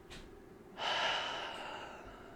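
A single deep breath: a faint inhale at the start, then a long, audible airy exhale that swells and slowly fades, close and quiet with no talking.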